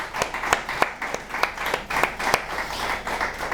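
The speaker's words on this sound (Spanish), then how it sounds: "Un aplauso por ese estigma," An audience applauds during a Spanish-language talk on meditation, with distinct individual claps standing out in an uneven rhythm over a softer bed of clapping for a few seconds.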